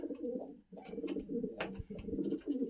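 Racing pigeons in a loft coo steadily in soft, rolling phrases, several birds overlapping at moderate distance with a faint chirp now and then and no talking.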